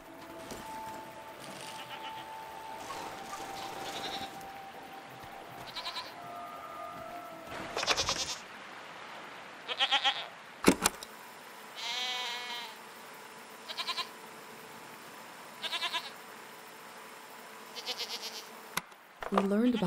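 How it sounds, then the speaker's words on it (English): Goat-like creatures bleat repeatedly in the Season: A Letter To The Future video game, several nasal, wavering calls spaced a few seconds apart, fairly close and clear against a quiet ambient background, with occasional talk. "What are these strange goat-like creatures? Are they simply goats?"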